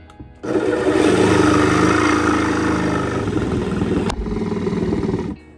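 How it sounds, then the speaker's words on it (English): A small power tool with a dying battery whines steadily at high pitch while cutting, then briefly falters and bogs down before running on and cutting out. "That's the sound of a dead battery."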